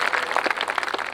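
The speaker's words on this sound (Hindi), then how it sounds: "मैं चाहता हूँ एक बार दोनों हाथ उठाकर जोरदार तालियों के साथ आप उन पैरोडी के लिए सुने" An audience at a Hindi poetry gathering (kavi sammelan) in Seawoods claps in a dense, steady burst of applause, loud and fairly close throughout.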